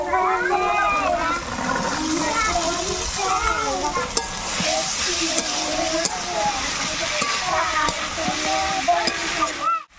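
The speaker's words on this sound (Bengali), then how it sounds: "আগে থেকে সেদ্ধ করা মটরগুলো দিয়ে দেবো" Boiled peas tipped into fried masala for Bengali ghugni, giving a steady broadband sizzle and frying hiss with stirring, close and fairly loud throughout, while someone talks over it; the sound cuts off abruptly at the very end.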